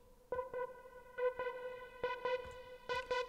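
Synth chords for a speed garage track, treated with chorus and plate reverb, stab in short rhythmic bursts with a shimmering, wide tail ringing between hits, quiet in level.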